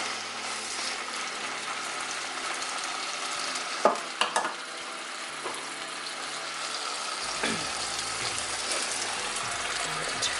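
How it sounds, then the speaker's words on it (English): Meat laid into a preheated frying pan sizzles steadily and close by for about ten seconds, a broad hissing fry with a few brief clatters of the pan partway through and no talking. "So I'm gonna come to my meat. Alright, then we're gonna just lay it right in there."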